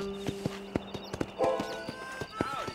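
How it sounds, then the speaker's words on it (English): Horse hooves walking in Red Dead Redemption: a steady series of distinct clip-clop steps, close and clear, with a person talking over them and a short whinny partway through. "I like watching the horses walk."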